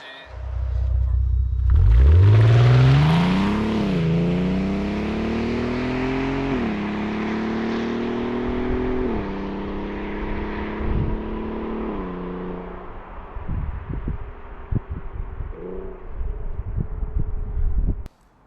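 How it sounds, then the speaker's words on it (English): An Audi TT mk2 3.2 engine roars up through its gears, rising and shifting in pitch with a deep, loud exhaust note before settling into a rumbling idle. "that car, it really is nice to drive, and that note from the exhaust"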